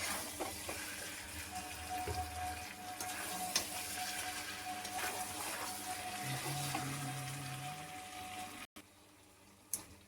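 Desi chicken curry sautéing in a pan, a soft continuous sizzle and frying crackle with faint scraping stirs and a few clinks, quiet and close, with no voices.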